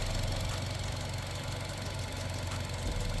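A Buick LaCrosse direct-injection engine idles with a steady, low rumble and faint ticking, heard close and unchanging throughout.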